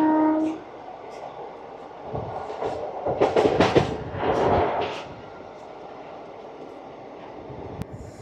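The Visakhapatnam–Machilipatnam Express (17220) blows a brief horn, then rumbles and clatters loudly as it runs past, swelling to a heavy roar of carriages before easing back to a steady mechanical drone.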